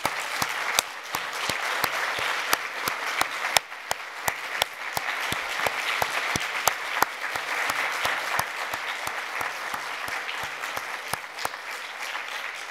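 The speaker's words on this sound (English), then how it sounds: "let's give our panel a round of applause again" Audience applause for a panel at a conference on Indigenous peoples, Canada and the Declaration, sustained dense clapping from a large crowd with sharp individual claps standing out, continuing steadily throughout.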